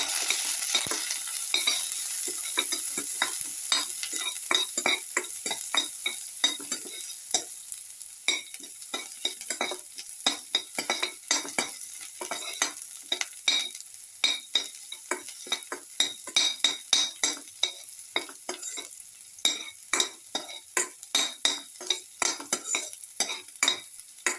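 Shrimp and vermicelli pasta with pepper sautéed in a pan, a continuous sizzle under frequent sharp scrapes and clinks of a utensil stirring against the metal, close and fairly loud.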